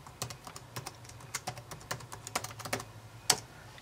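Email and password being typed on a computer keyboard, a steady run of distinct key taps at an even pace ending in one sharper keystroke, close over a faint background hum, no speech.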